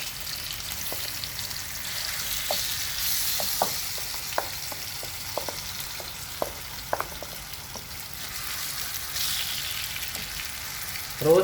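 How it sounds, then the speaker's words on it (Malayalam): Mushrooms frying in oil and butter on a tawa over a high flame, giving a steady close sizzle with scattered crackles and pops and occasional stirring, with no talk. "റോസ്റ്റ് ചെയ്യുമ്പോൾ എപ്പോഴും ഹൈ ഫ്ലെയിമിലിട്ട് വേണം റോസ്റ്റ് ചെയ്യാൻ."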